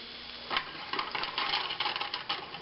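Potatoes, onions and sausage for a breakfast burrito start to sizzle in a pan, a quiet bed of noise that breaks into crackling, spattering bursts after a moment and keeps up unevenly.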